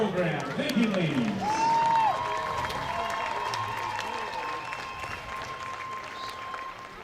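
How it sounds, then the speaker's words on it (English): Crowd applause in the stands at a high school homecoming varsity football game, a broad wash of clapping swelling early then holding steady, with a public-address voice and crowd chatter mixed in. "Once again, a big round of applause for the Round Valley Rodeo Royalty Program."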